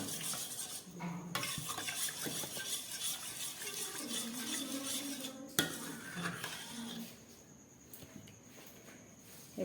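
A spoon scrapes and clinks steadily against a bowl as homemade yogurt is stirred and mixed, close and fairly soft, with a brief sharp knock midway and quieter scraping toward the end.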